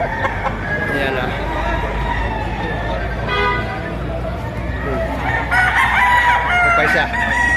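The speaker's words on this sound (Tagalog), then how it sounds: "Magagandang mga manok ito." Chickens and roosters at a poultry market in Padre Garcia, Batangas, with roosters crowing loudly over steady clucking, under a busy crowd murmur and a voice talking nearby.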